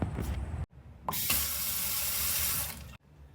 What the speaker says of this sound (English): I just washed it off a little bit. A little splishy splash in the water.